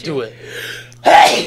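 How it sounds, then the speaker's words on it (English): A man sneezes once, loudly and close, in a sharp burst that follows a stretch of his own talking. "I'm about to sneeze"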